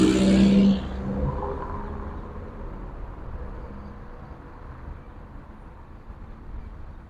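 Evening street traffic in Satwa, Dubai: a loud vehicle rush at the start settles into a steady, low rumble of cars moving past at moderate distance.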